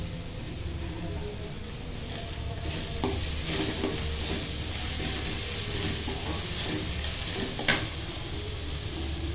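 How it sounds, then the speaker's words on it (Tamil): Curry leaves and coriander sautéing with onions in a pan for millet rava dosa, giving a steady close sizzle and hiss with occasional stirring scrapes and clicks, no talk. "இப்போ கருவேப்பிலையும் கொத்தமல்லியும் இதிலே போட்டுக்கலாம்."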